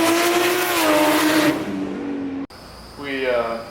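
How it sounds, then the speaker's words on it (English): An 800 WHP single-turbo BMW N54 335i drag car accelerating hard, its loud engine rising in pitch through the gears, with a brief cut at a shift and a person talking over it. "It just takes a little application of the throttle, and then there's lag, and then all hell breaks loose"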